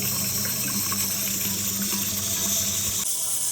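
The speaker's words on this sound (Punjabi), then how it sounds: "ਕੁੱਕਰ ਫਿਲਟਰ ਦੇ ਪਾਣੀ ਨਾਲ ਭਰ ਲਈਏ" Steady rush of water running from a filter tap into a pressure cooker, a continuous hiss with a low hum beneath, ending abruptly near the close.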